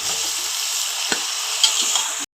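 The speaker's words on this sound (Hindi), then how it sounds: "बैंगन डाल दिए हैं, अब ये फ्राई होंगे।" Eggplant and onion frying in a pan, a steady bright sizzle with a couple of brief stirring clinks and scrapes, close and continuous before cutting off abruptly.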